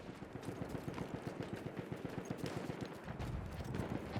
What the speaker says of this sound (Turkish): Bir silah sesleri duydum ama.